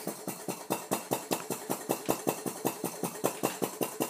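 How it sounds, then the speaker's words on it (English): Alyn Foundry CHUK Mark II flame gulper, a small vacuum engine fitted with a slender push rod working the flame port, runs steadily near the mic with a fast, even series of sharp puffing beats, about four to five per second. "this is the Alyn Foundry CHUK Mark II flame gulper, liquor,"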